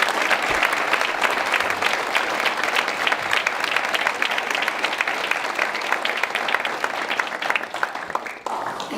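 A large audience bursts into sustained, dense applause that stays loud and even for several seconds, congratulating Dartmouth's Thayer School of Engineering on its 150th anniversary.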